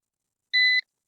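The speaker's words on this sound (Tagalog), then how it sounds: "Hintayin rin natin siya mag-beep." An L600 Pro drone gives a single short, clean electronic beep during calibration, heard alone against silence.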